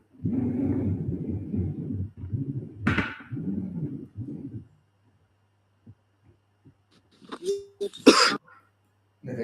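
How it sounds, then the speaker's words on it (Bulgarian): A cough bursts out near the end of a video chat, following speech from one person, with a short pause of quiet and a brief throat-clearing noise before it. "Не дай кашля."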